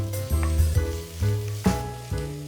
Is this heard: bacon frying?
yes